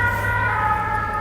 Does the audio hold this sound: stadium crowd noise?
no